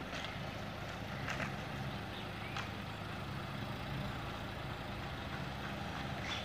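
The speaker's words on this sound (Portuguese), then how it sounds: "vai começar a movimentar o carro" Car engine running low and steady as the driver shifts into first gear to start a parallel parking manoeuvre, a constant rumble with a few faint clicks and knocks, no talking.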